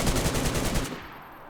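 Assault rifle firing on full auto in the game DayZ, a rapid, evenly spaced burst of loud close shots that stops sharply after under a second.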